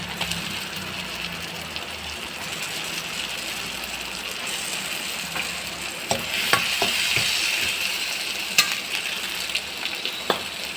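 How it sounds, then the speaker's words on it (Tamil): Potatoes, tomatoes and golden onions sautéing in a pan, a steady soft sizzle broken by intermittent clicks and scrapes of a spatula stirring, growing a little busier midway. "பிறகு நன்றாக வதக்கவும். பிறகு உருளைக்கிழங்கை சேர்க்கவும்."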